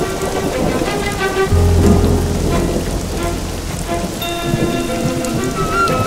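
Heavy rain pours down in a loud, unbroken hiss and patter on surfaces, with low distant rumbles of thunder beneath and a few faint background tones.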